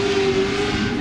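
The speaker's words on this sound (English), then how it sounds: "Listen to that exhaust though, man. He is just absolutely floored right now." Race car engine held at full throttle in Pro 2 off-road truck qualifying at Texas, a loud continuous exhaust roar with a steady high drone, close and unbroken for the full second.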